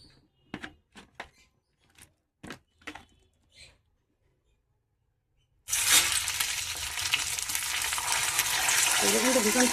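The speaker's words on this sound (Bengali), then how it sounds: "এবারে মাছগুলো ভেজে নেব।" Stinging catfish (shing fish) hit hot oil in a pan after a few sharp clicks and knocks, bursting into a loud, dense, continuous sizzle with crackling spatters that carries on to the end.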